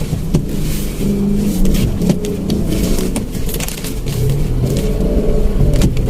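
A car engine drones loudly and close while driving, swelling now and then as it revs, with a low rumble throughout and no talk.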